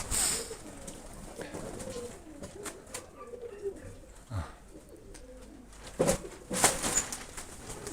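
Mykolaiv pigeons cooing softly in a loft, faint low calls with occasional wing flaps and rustling nearby, a quiet background of movement.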